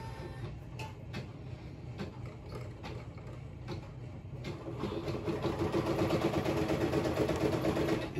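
An embroidery machine stitching snap tab buttons in the hoop gives off a steady mechanical whir and clatter with regular ticks, then grows louder and busier partway through as it moves into its color change mode.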